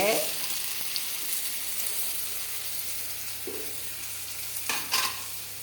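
Ingredients sauté in a pan with a soft, steady sizzle, a few clinks and scrapes of stirring near the end, fairly quiet and close.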